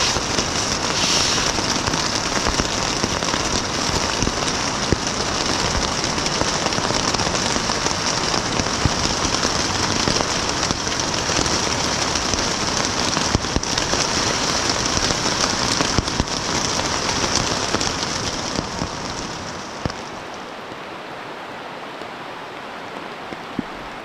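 Steady rain falls on a damp outdoor campsite, making a constant broadband hiss with scattered drop ticks for about twenty seconds before it thins and quiets near the end; no one speaks.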